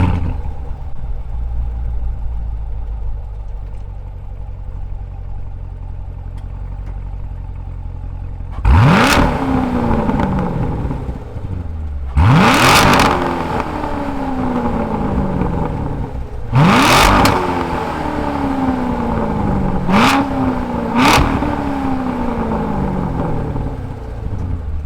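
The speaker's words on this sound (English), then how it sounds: "let's fire up this V8, pushrod V8, and see what it sounds like." A Chevrolet Corvette C7 Grand Sport pushrod V8 idles with a low rumble, then is blipped four times in quick sharp revs that climb and fall back, loud and close, with no talking.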